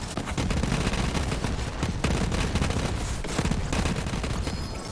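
Rapid automatic gunfire in a Borderlands shooter game, dense continuous bursts of shots layered over one another, loud and sustained with brief gaps.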